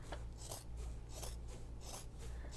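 Scissors snip repeatedly through thick layers of fabric for a messenger bag, close and soft, with a steady rhythm of crunching rasping cuts and no voices.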